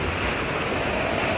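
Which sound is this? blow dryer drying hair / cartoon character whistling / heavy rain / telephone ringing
heavy rain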